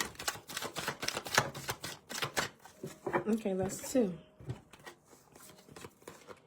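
Rapid papery riffles and slaps of tarot cards being shuffled, a quick run of crisp taps, with a voice speaking briefly partway through.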